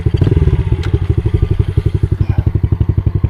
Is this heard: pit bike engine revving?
yes